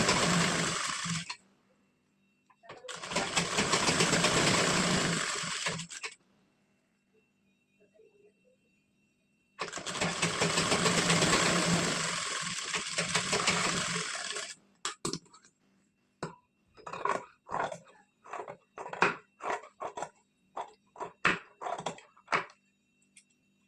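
A sewing machine stitches the final fitting seam joining both panels of a three-piece princess cut blouse, running in two long steady bursts with pauses, then a string of short clicking taps near the end.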